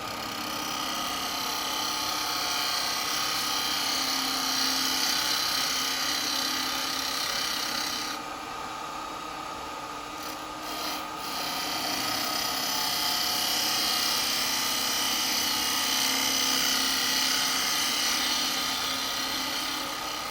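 A carbide turning tool cutting a Bubinga bowl on a wood lathe gives a steady rasping shear over the lathe motor's hum, with a short dip in the cut midway before it resumes.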